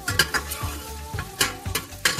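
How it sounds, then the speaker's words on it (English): Chopped onion sautéing in a hot pan for pork goulash: steady sizzling broken by a rhythmic series of sharp spoon-against-pan stirring scrapes, close and clear with no talk. "Let's saute the onion for about 1 or 2 minutes until it's soft."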